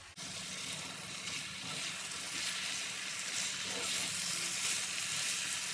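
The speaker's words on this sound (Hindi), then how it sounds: "हम इसे भून लेंगे।" Steady, loud sizzling of soaked rice frying in hot oil for Hyderabadi chicken tahari, a continuous hiss starting abruptly as the rice goes in, with faint stirring underneath.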